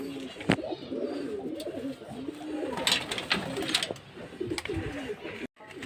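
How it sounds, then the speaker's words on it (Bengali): Domestic pigeons at a home loft, adults with young, give repeated close, overlapping coos over a faint background hum, with the sound cutting off briefly near the end. "দেখুন বন্ধুরা সাতটা পায়রা এক জোটে আছে"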